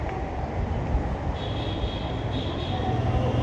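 Metro trains at a station, a continuous low rumble of rolling rail cars with a faint high whine that rises twice, steady and fairly close throughout.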